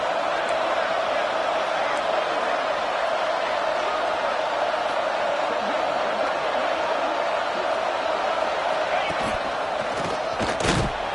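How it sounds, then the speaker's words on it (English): A college football stadium crowd at a Wake Forest game against ECU keeps up a steady, loud roar during a red zone defensive stand, with a few thumps near the end. "And here comes the noise. This crowd is trying to inspire this defense to make a big red zone stop."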